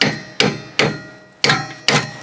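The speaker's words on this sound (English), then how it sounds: "Sometimes you need a little bit of persuasion with a hammer." A hammer strikes a rear axle part during rear spring replacement on a Volkswagen Golf/Bora mk4. Four sharp metallic blows land at uneven intervals, and each one rings and decays before the next. The strikes are close and loud, with no talking.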